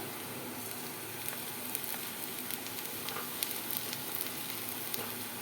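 Ginger-garlic paste fries in oil with pieces of fried katla fish in the pan, giving a constant, fairly quiet sizzle broken by scattered scrapes and light taps as the mixture is stirred. There is no talking.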